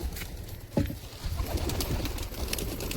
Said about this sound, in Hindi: तो जो भी कबूतर लोग यहाँ पे अंदर हैं उन लोग को मैं बाहर निकालता हूँ